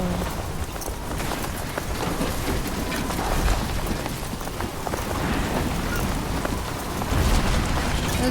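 Strong wind gusts in the video game Death Stranding 2 on a beach-like stormy stretch, a loud steady broadband roar with rustling texture and surges near the end, no talk over it.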